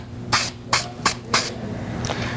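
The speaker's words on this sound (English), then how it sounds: "The first thing we want to do is spray out a little test panel." An aerosol can of automotive primer sprays a small test panel in four short, loud hissing bursts, evenly spaced, followed by a fainter final puff.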